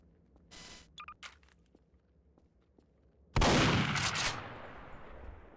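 Gunfire in the video game Garry's Mod: a few quick sharp shots and faint clicks, then a loud burst of fire or a blast that slowly fades away.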